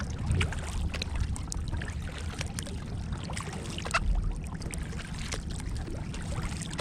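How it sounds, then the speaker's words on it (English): Canoe paddles dip and pull through Missouri River water at night, a soft repeating rhythm of strokes and gentle splashes over quiet flowing water, close and fairly faint. "all you hear is quiet and paddles going through the water"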